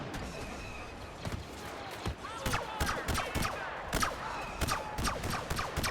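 Blaster fire crackles in a Star Wars Battlefront match, a scatter of sharp bursts coming in uneven clusters over a busy game soundscape, moderately loud and dense toward the end.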